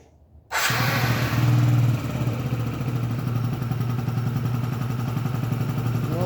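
A Yamaha Jog 36 scooter with a recently cleaned injector fires up abruptly after quiet, revs briefly, then settles into a steady, close, buzzing two-stroke idle with a rapid rattling pulse, no voices.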